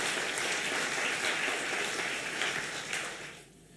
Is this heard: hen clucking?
no